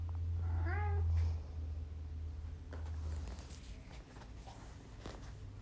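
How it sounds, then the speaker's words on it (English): A house cat meows a few times near the start, a short rising cry, with low steady rumble of nearby traffic underneath and faint household movement afterward. "And that's my cat."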